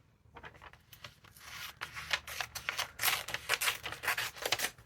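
Scissors cut a picture out of a magazine page close up, a quiet run of rapid snips and crisp paper slices coming in uneven bursts, with no one talking.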